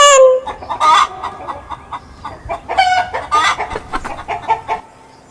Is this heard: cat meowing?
no